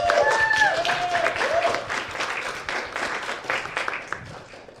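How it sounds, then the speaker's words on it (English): Studio audience applause at a live-streamed charity gaming marathon show, a dense wash of clapping lasting several seconds and fading gradually, with a bright electronic tone sweeping over the start. "This is where you clap."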